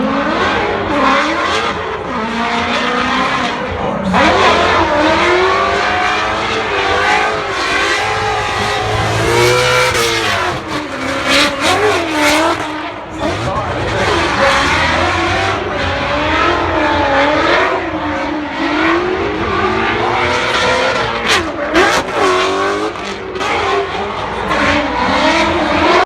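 Roush Performance Ford Mustang drift car on Falcon tires launching into a qualifying run at a Formula Drift event in New Jersey, loud continuous engine revving that rises and falls, mixed with tire squeal and crowd and track noise.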